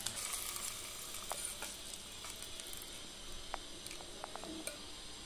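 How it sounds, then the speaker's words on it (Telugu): Tempering sizzles quietly in a pan for tomato curd chutney, a faint steady frying hiss with a few small pops and crackles. "ఇదిగోనండి పోపు వేగిందండి"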